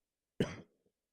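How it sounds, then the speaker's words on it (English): A single short, dry cough from a man, close and fairly quiet, heard alone with silence around it. "Sorry about the cough."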